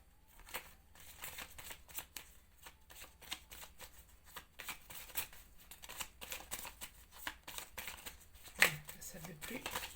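Playing cards shuffled for a card reading give a steady, close run of soft riffling clicks and flutters, with a sharper snap near the end.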